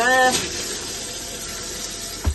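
Water runs steadily from a tap in a motorhome kitchen or shower area, a continuous close hiss and splash after a brief voice at the start, ending with a soft knock.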